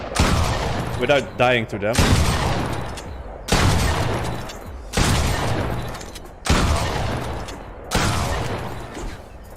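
Repeated tactical shotgun blasts from robot enemies in Fortnite, five or six loud booming shots spaced roughly a second and a half apart, with someone talking over the gunfire.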